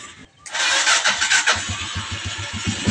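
A Honda TMX Alpha motorcycle is started up close: a brief crank, then the engine catches and settles into a rapid, pulsing idle.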